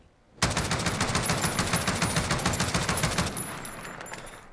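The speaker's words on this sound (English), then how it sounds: "we're just going to aim full auto at this and not control the recoil and take a look at what the recoil looks like" An ASH-12.7 rifle fires full-auto in Call of Duty Modern Warfare, a loud rapid burst of sharp, evenly spaced shots lasting about three seconds before cutting off, followed by a brief fading tail.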